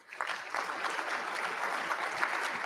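An audience at a cancer charity celebration luncheon claps steadily, a brisk, fairly faint wave of applause with no talking over it.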